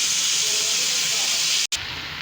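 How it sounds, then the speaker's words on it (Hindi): Chicken pieces frying in hot oil in a home kitchen, giving a steady, loud sizzling hiss that stops abruptly for a moment near the end before resuming. "इसको हल्का सा इसमें फ्राई करें ऑयल में इसको।"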